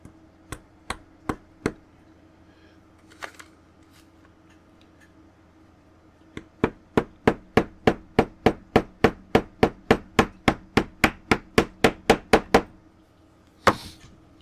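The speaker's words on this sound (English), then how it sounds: "you put your plastic in with your hoe, then you whop it with a hammer" A small ball peen hammer taps repeatedly on plastic, first a few scattered strikes, then a long steady run of quick, crisp taps.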